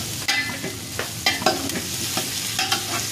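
Ginger frying in a pan for chicken tinola, a steady close sizzle broken by several scraping stirs of a utensil against the pan, with no voices.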